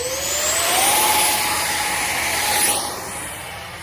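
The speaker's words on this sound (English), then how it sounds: "let's get this plane up in the air and we'll wait for it to completely spool up before I toss it" An XFLY SU-27 RC jet plane's electric ducted fan spools up close by, a rising whine that climbs steadily in pitch and loudness, holds at a high scream, then fades slightly as it moves off.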